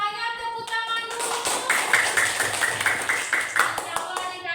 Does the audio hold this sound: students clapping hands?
yes